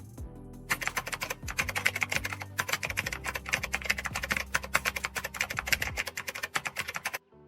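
Someone types a sentence on a computer keyboard, a quick irregular run of close key clicks with short pauses and a brief stop near the end, no voices.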